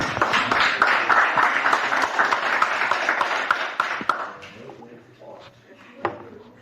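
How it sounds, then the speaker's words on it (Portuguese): A church congregation claps together in a dense burst of applause that fades out after about four seconds, leaving a few scattered claps and room noise. "Aplauda o Senhor, amém?"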